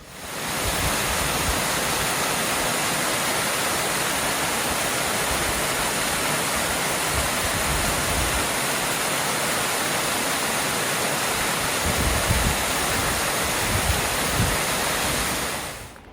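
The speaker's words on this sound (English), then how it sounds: "All of these waterfalls are coming down off the mountains" Roadside waterfall on Sunbeam Creek at Mount Rainier: a loud, continuous broadband rush of falling water, steady and close throughout, with a slightly heavier low rumble toward the end.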